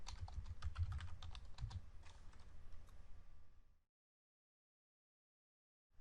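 Close, quiet typing of PL/SQL code on a computer keyboard, rapid irregular key clicks for a few seconds before stopping into silence.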